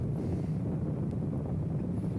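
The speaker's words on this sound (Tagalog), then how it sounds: "Talagang mahangin ngayon, ngayong araw na to." Steady wind buffets the microphone during a ride on a Kymco Xciting VS400 scooter, a constant low rushing roar that fills the whole stretch without a break.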